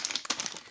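Plastic bags holding pieces of a Playtive toy building set crinkle and rustle close up in a quick, busy burst of crackling, with no talking.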